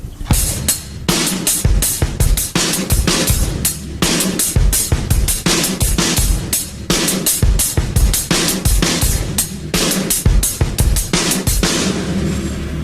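Drum kit playing a steady kick and snare groove over a running hi-hat ostinato, in a metal drumming lesson; dense, loud, evenly pulsed strokes continue throughout without talk.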